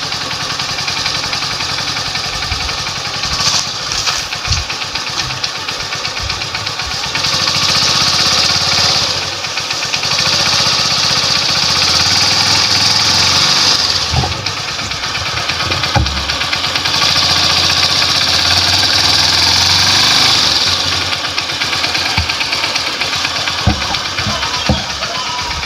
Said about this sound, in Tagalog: Try na natin tong paandarin ng ating motor na bagong palit ng air filter.